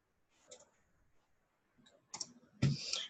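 A computer mouse double-clicks on a spreadsheet sum function, giving a few sharp, close clicks in quick pairs with faint background noise between them.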